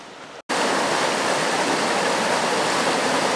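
Water of the Upper Clyne River pours steadily across a ford after heavy autumn rain near Swansea, a loud, dense, unbroken rush that continues alone after a brief gap at the start.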